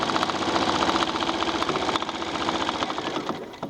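A sewing machine stitching through a quilt along a seam, a fast continuous mechanical whir and needle rattle that runs steadily from start to finish at close range, with a few faint clicks and no talking.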